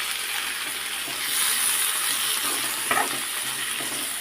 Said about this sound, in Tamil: தக்காளியும் சேர்த்து கொஞ்சம் நேரம் நல்லா வதக்கி விட்டுக்கலாம்.